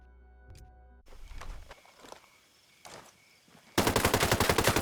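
An ARX 200 assault rifle in Ghost Recon Breakpoint fires a rapid, loud automatic burst at the end, preceded by quieter handling clicks and movement sounds.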